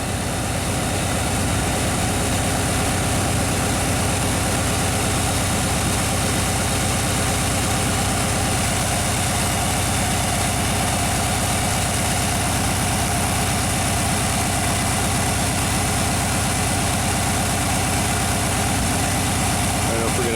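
A classic Chevy engine idles steadily and evenly at about 1,000 RPM while warming up, a continuous close rumble with no changes in pace.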